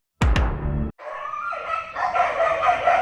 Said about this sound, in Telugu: ఇక్కడ కుక్కలు మా మీద దాడి చేసేంత ఫైట్ జరుగుతుంది.